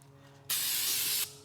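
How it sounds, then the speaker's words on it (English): Carburetor cleaner sprayed from a can onto a Ford 5.4L 3V engine block during a rebuild, a single loud, steady hiss lasting under a second, starting and stopping abruptly against a quiet shop background. "take some carburetor spray"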